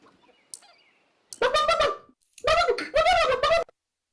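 Chicken-like clucking comes from a voice in a Counter-Strike match, two bursts of harmonic, gobbling sounds imitating a chicken, loud and close.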